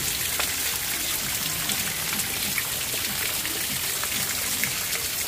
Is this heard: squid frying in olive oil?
no